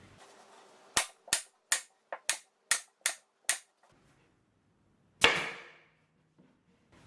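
A staple gun fastens wadding onto an upholstered bed headboard, firing about eight sharp, close clacks in quick succession, then a single louder snap after a short pause, with no talking.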